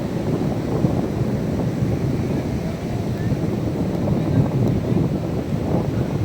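Powerful surf roars continuously at Puri beach, a deep rumbling wash of breaking waves with wind buffeting close to the microphone.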